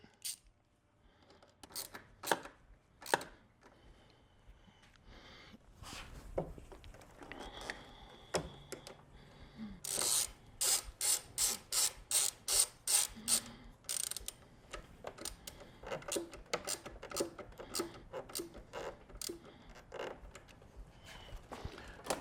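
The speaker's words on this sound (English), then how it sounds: "So now let's snug down our triple tree. So 6mm again, and our ratchet." A ratchet tightens the triple tree bolts on an MV Agusta F3 800 motorcycle, with sharp clicks in scattered bursts and then a fast run of close, regular clicking.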